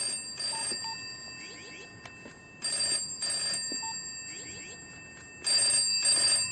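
A telephone rings in repeated electronic trilling bursts, two-part rings separated by quiet gaps, moderately loud and alone with no speech.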